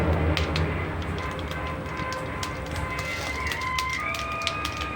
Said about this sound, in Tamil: எண்ணெய் நல்லா காயுது கடுகு போட்டுக்கலாம் வெந்தயம் போட்டுக்கலாம்